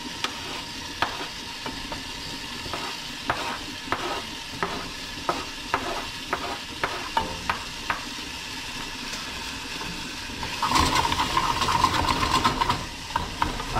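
Mushrooms go into a tomato-paste pasta sauce in a pan, with a spoon scraping and tapping the pan in a steady series of ticks over a soft sizzle. The bubbling grows louder and more spattering near the end.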